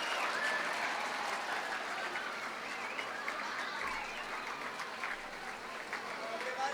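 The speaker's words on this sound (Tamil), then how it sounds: "மாணவர்கள் நன்றாக கைத்தட்டி உற்சாகப்படுத்துமாறு அன்போடு கேட்டுக்கொள்ளப்படுகிறோம்." Students applaud at a school ceremony, a broad sustained wash of crowd clapping that fills the whole stretch at steady loudness, with voices murmuring faintly underneath.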